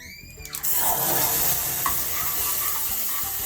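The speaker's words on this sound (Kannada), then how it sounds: "ಈಗ ಬೇಯಿಸಿದ ಬೇಳೆ, ಟೊಮೆಟೊ ಹಾಕ್ತಾ ಇದ್ದೀನಿ." Boiled toor dal and tomato go into a hot tempering for thin dal rasam, setting off a sudden loud sizzle and splash that keeps crackling steadily and close.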